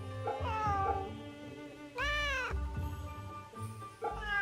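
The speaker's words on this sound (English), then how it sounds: "猫だな Kitty!" A cat in the Fate/Samurai Remnant video game meows several times, with drawn-out rising and falling cries and one louder, longer yowl in the middle. The meows are close and clear, with no talking over them.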